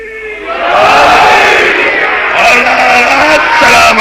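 Large crowd at a religious celebration for the birth of Imam Hussain loudly chanting slogans in unison, a dense sustained roar of many voices filling the space.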